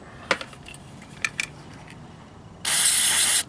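A few light metallic clicks and taps come first, then a loud, close, steady hiss of carb cleaner sprayed from an aerosol can onto the battery contacts of a 1975 Honda XL 250 motorcycle, lasting about a second.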